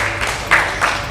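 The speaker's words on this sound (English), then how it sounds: "big round of applause for him as well once again" Applause from an audience at a panel discussion event: a brief, steady wash of many hands clapping at moderate loudness, with no speech.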